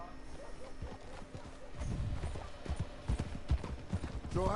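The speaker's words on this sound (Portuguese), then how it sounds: "Monte no seu cavalo. Sim, montei agora." Horse hooves clip-clop at a steady walking pace while riding in the Red Dead Redemption II video game, with creaking tack and faint game ambience and voices talking over parts of it.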